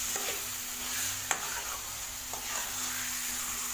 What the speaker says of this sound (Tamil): மசாலா தடவை சிக்கனை வந்து 2 நிமிஷம் ஹை ஃப்ளேம்லேயே வச்சு பார்த்திங்கன்னா நல்லா வதக்கி